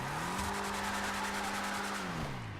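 Declasse Tornado Rat Rod in Grand Theft Auto V revving hard with wheelspin, a loud sustained engine drone that climbs and holds its pitch, then drops at the end, with tire squeal running underneath.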